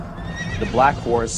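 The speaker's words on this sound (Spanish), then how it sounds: "vi aparecer un caballo negro, cuyo jinete tenía una balanza en la mano" A horse whinnies in two rising and falling calls, sounding close over a low rumbling background with a voice-like murmur.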